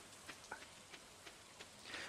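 Rain in the Stardew Valley video game, a soft steady patter with a few scattered light drop taps over a quiet hiss, faint and heard alone.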